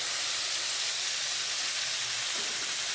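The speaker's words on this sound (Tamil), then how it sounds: "இந்த தக்காளி எல்லாத்தையும் நல்லா போட்டு செமையாக வதக்கணும்." Tomatoes sauté in a pan in a thatched-roof home kitchen, giving a continuous close, loud sizzling hiss with no talk.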